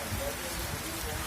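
Rain falling during the rainy season in Punjab, a steady, dense, even hiss throughout with no distinct drops.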